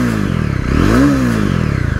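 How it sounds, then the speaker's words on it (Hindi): A Jawa 42 BS6 motorcycle starting up and idling nearby, its exhaust note a steady low thumping burble that swells briefly into a short rev before settling back to idle, with no voices. "पहले एग्जॉस्ट नोट आप सुन सकते हो।"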